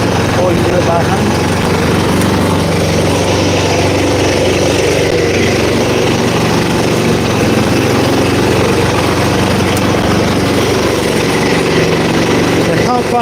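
Petrol engine of a walk-behind lawn scarifier running steadily during live scarifying on a lawn near a fence, a continuous loud mechanical drone with no pauses.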